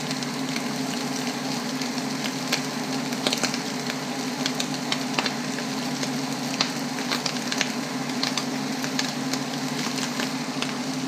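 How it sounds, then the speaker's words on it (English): Jasmine rice frying in a pan with eggs, corn, carrots and ham gives a steady, moderately quiet sizzle with scattered crackles and light stirring scrapes, no talk. "so let's scoop in the rice. Right here, the jasmine rice."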